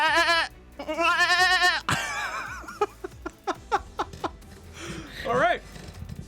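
A person imitates a goat's scream with loud, wavering bleats, followed by a run of short choppy sounds that trail into laughter.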